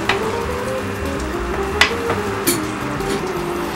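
Shrimp fry in a skillet while cooking pancit, giving a steady, close sizzle with a couple of sharp utensil clinks against the pan.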